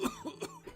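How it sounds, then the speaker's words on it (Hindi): A single short, fairly faint cough splits into two or three quick rough bursts in under a second, close by and alone. "जिस पर एक खांसी की आवाज आई"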